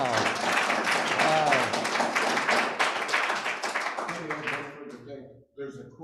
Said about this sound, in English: Another round of applause for Roger.